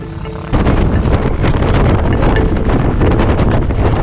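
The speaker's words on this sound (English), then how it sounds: "For each tent, we slowly ramped up power, shooting for 3 incremental wind speeds of 30 miles per hour, 50 miles per hour, and full throttle" Powerful fans drive a strong, steady roaring wind against a camping tent, buffeting it loudly and continuously with heavy gusting rumble and flapping texture, after a brief quieter start.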